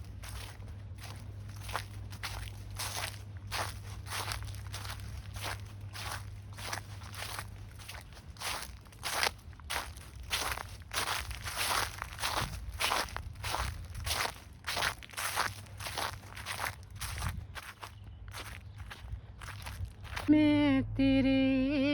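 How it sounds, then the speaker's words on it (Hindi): Footsteps crunch through dry autumn leaves in a steady walking rhythm, each step a close, crisp crackle, continuing for about twenty seconds before music begins at the end. "जब मैं ऑटम लीव्स के ऊपर से चलती हूँ, जैसे क्रंचिंग साउंड होती है ना, वो मुझे बहुत भाती है"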